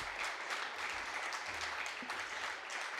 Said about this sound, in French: On peut vous applaudir, bien sûr.